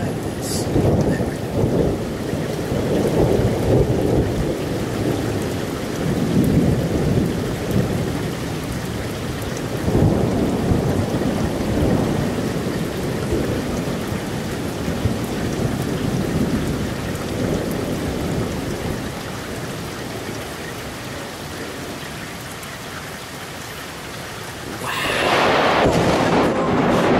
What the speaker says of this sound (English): it's like one of the most violent thunderstorms I've ever seen